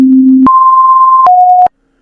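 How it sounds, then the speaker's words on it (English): Synthetic sine-like electronic tones generated from star data play as three clean sustained pitches in sequence, a low one, then a higher held tone, then a slightly lower short one, ending abruptly in silence. "now it's turning these stars into specific tone"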